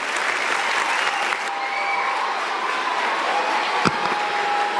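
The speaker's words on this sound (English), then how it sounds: "Please give him a round of applause." Audience applause at a gathering where a speaker is campaigning to be president of Nigeria, steady, dense clapping that fills the whole stretch at a fairly loud level, with a faint tone running underneath.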